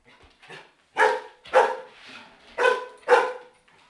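A chihuahua barks in two quick pairs of sharp yaps, close and clear in a quiet room, with a few faint softer yips before them.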